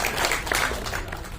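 Audience applause at a Tamil film press event, a dense burst of clapping that gradually fades over about a second and a half.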